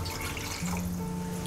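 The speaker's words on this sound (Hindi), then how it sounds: "अब इसमें हम कप से 1 कप पानी डालेंगे" A cup of water is poured into cauliflower kofta curry gravy, a short continuous splash and trickle of liquid close by, with no talking.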